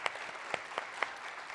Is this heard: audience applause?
yes